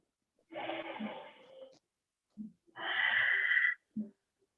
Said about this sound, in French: Breathe in and out through your nose.